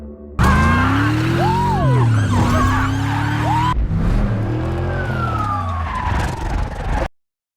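Loud, close police car siren wailing continuously during a film car chase, its pitch sweeping up and down over a roaring car engine, then cutting off abruptly at the end.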